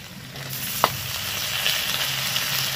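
Cauliflower goes into a pan of frying winter vegetables, including broad beans, and a steady close sizzle swells after a sharp knock of the pieces landing, with no voices.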